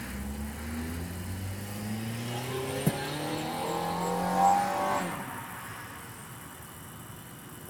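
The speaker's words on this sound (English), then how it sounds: "That car had a turbo." A turbocharged car accelerates past, its engine note rising in pitch through gear changes before fading as it moves away, with no talk over it.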